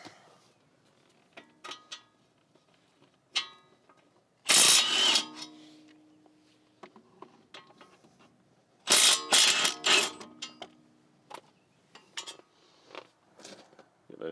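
Ratchet work on the 17 mm bolts of a brake caliper bracket on a 2015 Subaru Outback: metallic clicks and clanks come in bursts, two loud clattering spells among quieter taps close to the microphone.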